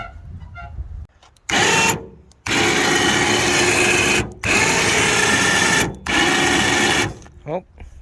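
A Harbor Freight electric winch pulls a truck onto a trailer, its loud, gritty motor whirring in several long bursts separated by short pauses, with a voice faintly heard at the start and end.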